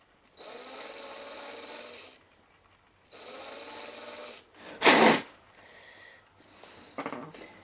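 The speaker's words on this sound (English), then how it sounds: "since we're drilling the body and doing all of the body now" A small power drill whirs in two steady bursts of about two seconds each while drilling into a die-cast Hot Wheels 1970 Ford Escort RS1600 model car body, followed by a sharp blast and lighter handling noises.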